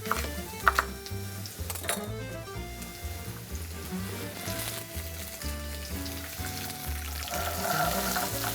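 Onions with green and red peppers frying in olive oil, a steady crackling sizzle with frequent soft knocks and scrapes, growing a little louder toward the end, and no voices.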